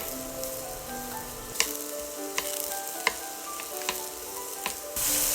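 King oyster mushroom pieces stir-frying in hot oil in a wok, a steady soft sizzle with a few sharp spatula clacks scattered through, close and without talk.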